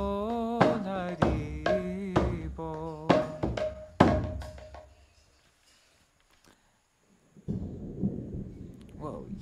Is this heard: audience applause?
no